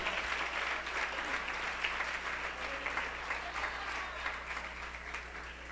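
A church congregation applauds steadily, a dense wash of clapping heard at moderate distance with a low background hum, sustained evenly for several seconds.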